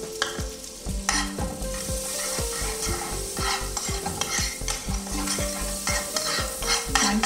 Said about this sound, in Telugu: జస్ట్ గార్లిక్ వేగిన తర్వాత దాంట్లోకి ఒక 2 టీ స్పూన్స్ ఆఫ్ ఉల్లిపాయ ముక్కలు సన్నగా తరిగినటువంటివి